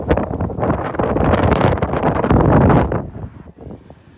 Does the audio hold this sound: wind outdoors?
yes